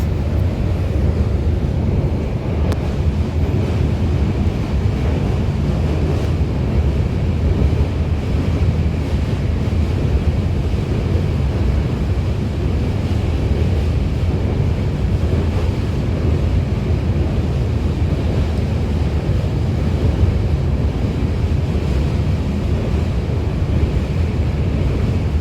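A fast, high-current river near Jalpaiguri rushes in a dense, constant roar, with heavy wind buffeting the microphone throughout and no pauses.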